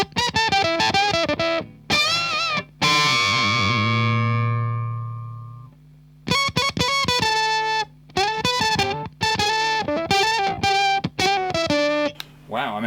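Electric guitar played through a Line 6 M9 octave-up fuzz on the neck pickup, loud and buzzy with a bright upper-octave edge; choppy phrases and bends alternate with a long sustained note that decays, then more short riffs.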